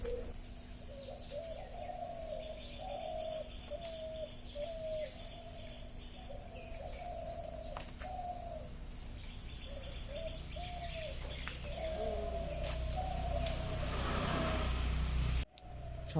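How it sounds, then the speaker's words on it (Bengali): Many birds call in the morning around an old family house, their repeated chirps and whistles near and far over a steady background drone of crickets, with no talking. "চারিদিকে এত সুন্দর সুন্দর সব পাখির আওয়াজ"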